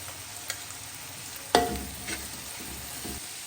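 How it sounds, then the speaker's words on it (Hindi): Tomatoes and green chillies hitting a hot pan of fried ginger-garlic for chicken pulao, giving a steady low sizzle with a sharp clink of a spoon and some stirring scrapes, no talk. "अब हम इसमें टमाटर ऐड कर देंगे और इसके साथ ही हरी मिर्ची।"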